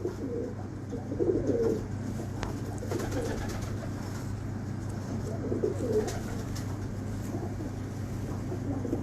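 Soft, low pigeon coos repeat a few times over a steady background hum, with faint distant noise throughout.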